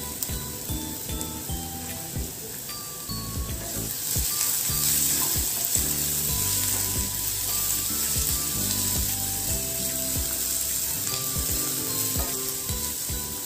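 A pinch of asafoetida (hing) hits hot oil in a pan and sets off a steady, bright sizzle that swells after a few seconds and holds, with faint clinks and stirring underneath.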